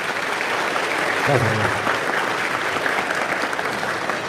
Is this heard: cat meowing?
no